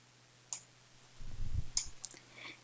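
Single mouse clicks on an on-screen button, faint and close, with a few sharp ticks spaced apart over a quiet background and a short rustle of handling in between.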